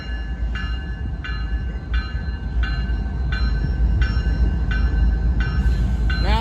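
A CSX locomotive-hauled train rolls past at steady, close range, its rumbling wheels continuous with a regular clack of rail joints every half second or so; a brief high squeal rises near the end.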